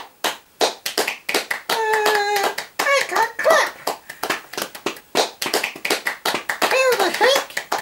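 Sharp, separate hand claps strike in quick, uneven succession, interleaved with short bursts of voice that sound like someone speaking.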